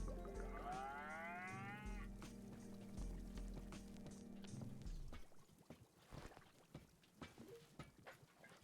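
Cow in the video game Wanderstop mooing twice in long, loud, rising calls close by, followed by scattered soft clicks and light game sounds.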